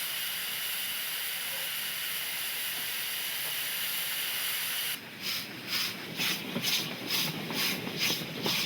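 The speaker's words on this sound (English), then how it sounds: "the largest locomotive ever seen in the Cape steamed by" A South African Railways GEA Garratt steam locomotive on road tests toward the Montagu Pass: a steady hiss of steam gives way to loud, rhythmic exhaust chuffs as it works past.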